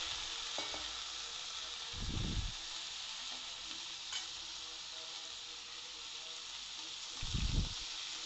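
Bottle gourd pieces and prawns with green chilies fry in a pan, giving a steady broad sizzle throughout, with two louder low scraping bursts as the mixture is stirred.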